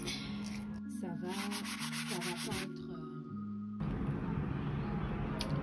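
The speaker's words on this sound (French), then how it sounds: "votre travail de ponçage ne va pas être très lisse" Wood for a DIY kalimba is sanded by hand with the grain, a close, rhythmic scratchy rubbing made of repeated back-and-forth strokes that turns into a continuous, denser scrape toward the end.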